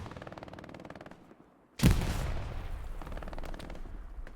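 Sudden loud burst of overlapping gunfire in a Hell Let Loose firefight, a sharp blast followed by sustained rattling shots over a steady battlefield background.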